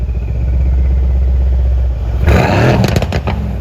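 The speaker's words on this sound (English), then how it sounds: "let's go ahead and get an exhaust clip of that bi-turbo V8 sound" Mercedes-AMG C63 S bi-turbo V8 with exhaust valves open in race mode, a loud steady drone that suddenly swells into sharp revving blips and crackles near the end, close and alone.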